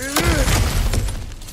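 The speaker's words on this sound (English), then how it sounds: "Ah, back to smashing through things for fun and profit." Kratos smashes through cracked ground in God of War Ragnarok. A sharp, loud crash of breaking rock is followed by crumbling debris, and a voice is heard over the start of the impact.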